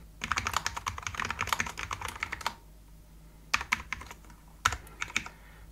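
Code is typed on a computer keyboard in close, quiet bursts of quick clicking keystrokes, separated by short pauses with single key taps.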